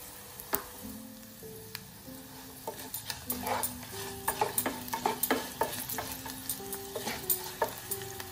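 Mustard, fenugreek and fennel seeds sizzle and crackle in hot oil for Odisha-style kanji. Sharp pops grow denser over several seconds, mixed with metal spoon scrapes against the pan, close up and without speech.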